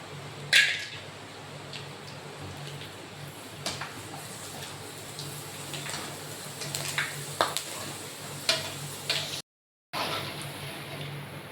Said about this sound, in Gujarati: ચિપ્સ તળ નાખી